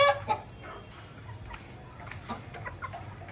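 Aseel chickens roaming outdoors give a few soft clucks and calls, moderately near, with faint outdoor ambience and low background rumble; no voices.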